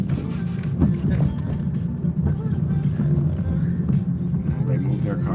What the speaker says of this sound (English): I'm gonna let this car go by